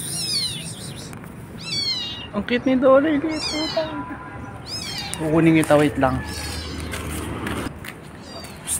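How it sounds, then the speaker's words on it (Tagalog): Small kitten named Dolay, wet, meowing several times in a neighbor's backyard, with high rising calls close by, mixed with someone talking throughout. "Meow."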